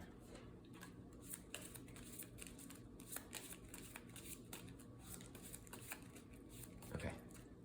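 Playing cards being shuffled during a solo tabletop card game round, a steady run of soft, rapid riffling clicks at close range with no talking over it.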